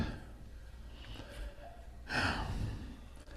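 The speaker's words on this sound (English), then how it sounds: "Let's take a deep breath." A group of people at a gathering draw one deep, audible breath together, a soft, rushing inhale that swells briefly over quiet room tone.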